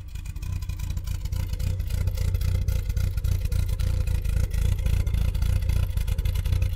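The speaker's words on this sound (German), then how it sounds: "Also richtig englischen Leerlauf" A Triumph Herald car engine idles with a dense, low, rhythmic throb, steady and close, with no voices.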